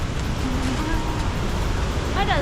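Strong, rushing water pours over stream rapids at a natural site in Phitsanulok, Thailand, a dense, steady roar with faint voices beneath it.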